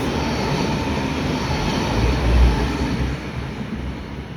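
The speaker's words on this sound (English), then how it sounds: "Another V-line train. Velocity set." A three-carriage V/Line VLocity train rolls past at West Footscray with a steady, loud rumble that swells slightly midway and then eases as it moves off.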